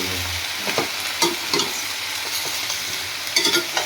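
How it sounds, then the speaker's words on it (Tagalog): Chicken feet frying in oil in a pan while being stirred, a steady broadband sizzle with intermittent scraping and clacking strokes from the utensil, close and fairly loud, no talking. "Yan ang ating chicken feet. Ayan. Kailangan halukayin muna"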